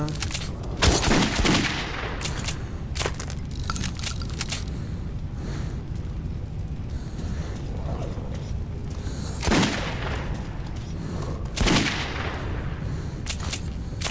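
Gunfire in Metro 2033 Redux comes as several loud, sharp bursts and single shots spaced through a murky underground ambience, each crack fading into a short echo.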